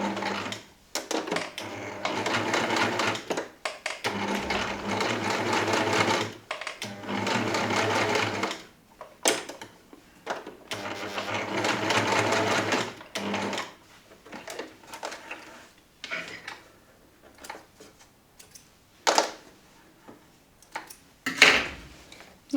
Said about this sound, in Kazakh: Қазір бірге тігіп көремін.